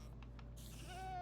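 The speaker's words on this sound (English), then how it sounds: "Oh, there's a goat." A goat in Minecraft gives a short, close bleat, a quick wavering cry over a steady low background hum.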